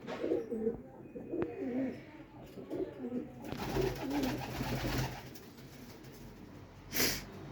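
Pigeons cooing nearby in soft repeated low coos, with some rustling and a brief scrape toward the end.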